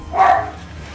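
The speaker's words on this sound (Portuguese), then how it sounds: "não vão se importar com um latidinho no fundo aí" A small female dog gives one short bark in the background of a workspace where a GameCube console is being fitted with screws, then the room falls quiet.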